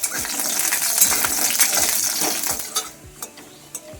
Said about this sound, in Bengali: বড়িগুলো ভেজে তুলে নিচ্ছি